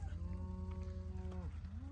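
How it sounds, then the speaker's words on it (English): Hungry cattle being moved out of a farm barn, one drawn-out moo that ends with a falling slide and another call starting after it, heard faintly at middle distance over a low rumble. "Oh, it's always fun moving cows. Come on, cows, come on!"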